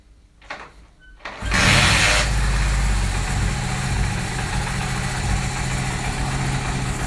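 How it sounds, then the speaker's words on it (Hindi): A Honda CD 70 motorcycle fitted with a capacitor instead of a battery. After a few quiet kick attempts its engine fires and settles into a loud, steady, close-up idle with an even mechanical chug. "अब मैं इसको स्टार्ट करता हूँ और आपको दिखाता हूँ फ़र्क"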